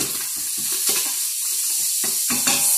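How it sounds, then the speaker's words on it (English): Bacon cooking in a pot for corn chowder gives off a steady sizzle, broken by repeated stirring scrapes and knocks against the metal, close and moderately loud. "we'll let the bacon cook down a little bit"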